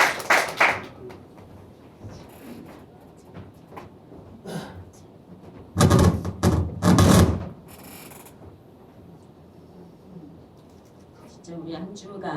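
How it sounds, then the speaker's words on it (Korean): A Korean church congregation gives applause of glory and thanks during a Sunday gospel service; short bursts of clapping rise and fall between quieter stretches with background murmur and some speaking. "우리 그럼 영광과 감사의 박수 보내주세요."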